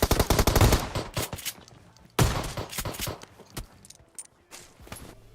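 Rapid shotgun blasts in the PUBG Mobile battle royale game on the Erangel map, a dense burst of loud shots followed by another volley and scattered single reports.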